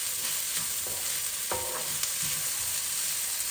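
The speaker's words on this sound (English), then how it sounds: "you really need to cook this garlic before you add anything else. So stir it well" Chopped garlic sizzles in a pan for chicken curry, a steady bright frying hiss with a few soft spoon scrapes and taps as it is stirred, close and continuous.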